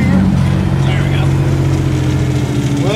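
Truck engine hauling a 140G motor grader on a mountain highway with switchbacks, a loud, steady low rumble as the driver shifts gear, with someone talking over it.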